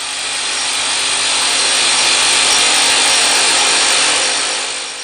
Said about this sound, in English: The unit shown here is configured for a single pass drilling application